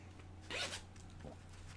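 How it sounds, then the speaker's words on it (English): A single quick zipper pull on a pencil pouch, a short rasping zip up close, followed by a faint second scrape against a low background hum. "it's going to help if you unzip your zipper"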